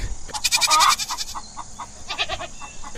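Goats and sheep bleat in several quick, wavering cries close by, a loud burst early on followed by softer, more scattered bleats, used as a sound effect in a Hindi horror story.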